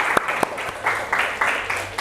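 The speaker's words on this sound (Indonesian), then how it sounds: "Kita berikan tepuk tangan untuk teman kita yang ada di depan" A classroom group claps for classmates standing at the front of the room, the applause coming in short uneven bursts of many hands at moderate loudness.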